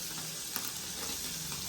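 Food fries in oil in a pan, giving a soft, steady sizzle with faint stirring scrapes, quiet and continuous, with brief background noise.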